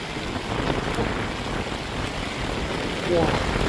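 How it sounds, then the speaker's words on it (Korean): Heavy rain pours steadily onto a shoreline, a dense, constant hiss close to the microphone, with a voice speaking over it. "근데 비가 너무 많이 오네"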